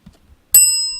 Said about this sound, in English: You get a bell, Jeff.